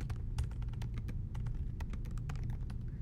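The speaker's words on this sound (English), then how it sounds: "start typing" Fingers tap quickly on a computer keyboard, a steady run of close, crisp key clicks over a low background hum.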